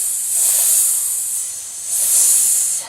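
Hissing exhalation of a breath control exercise, two sustained bursts of air pushed louder then softer, each swelling and fading, close and with no talk.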